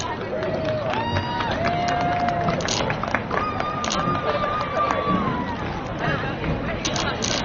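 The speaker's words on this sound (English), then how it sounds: "please give another hand for all the senior cheer members" A crowd at a high school football senior night claps and cheers for the senior cheer members, a steady wash of applause and hubbub beneath an announcer's voice over the loudspeaker.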